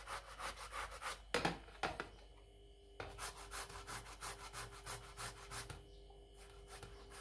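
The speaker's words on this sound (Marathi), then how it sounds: "आता जे आपण उकडून सोलून घेतलेले बटाटे आहेत ते किसणीच्या साहाय्याने किसून घेणार आहोत" Boiled, peeled potatoes rubbed against a hand grater for chakli dough, a steady rhythmic back-and-forth scraping of repeated soft rasping strokes with short pauses, close and quiet.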